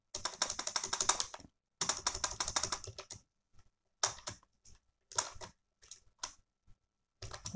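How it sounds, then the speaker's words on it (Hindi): Typing on a computer keyboard while entering text in MS Word, heard as close, rapid bursts of key clicks separated by short pauses, with no voice over it. "वो सारे टेक्स्ट यहाँ पे टाइप कर दीजिए"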